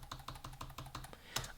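A short password is typed on a computer keyboard at a Linux machine's Secure Boot setup, about nine quiet, evenly spaced key clicks ending in a slightly firmer keystroke, close and alone.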